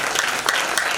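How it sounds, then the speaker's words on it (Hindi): A seated gathering at a Hindu Ramcharitmanas katha claps hard on cue, a brief, dense and even burst of applause from many hands, with no speech over it. "एक बार जोरदार तालियां बजाइए"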